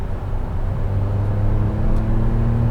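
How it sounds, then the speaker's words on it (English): A 2021 Hyundai i20 N Line with a 1-litre three-cylinder engine and reworked exhaust drones low and steady while driving, a throaty rumble that swells slightly as it pulls. "the exhaust too has been worked on and it does sound much nicer now"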